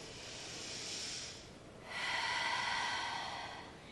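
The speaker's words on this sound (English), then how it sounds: "Inhale through the nose." A slow inhale drawn in through the nose in a yoga class, soft and airy, fading briefly before a fuller, louder breath swells in and holds.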